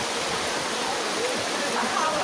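Water pours down at Tada Waterfalls, a dense, steady hiss of rushing water that fills the moment, close and even, with a voice faintly present beneath it.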